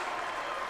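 A large crowd at a New Zealand secondary schools First XV rugby semi-final between Palmerston North Boys' and Southland claps loudly and continuously, a dense wash of applause with no gaps.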